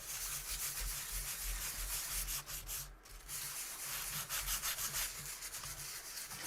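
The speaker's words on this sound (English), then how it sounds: "Not a big fan of sanding in the cavity here." Close, steady back-and-forth strokes of sandpaper inside a guitar body cavity, with a brief pause midway before the rubbing picks up again.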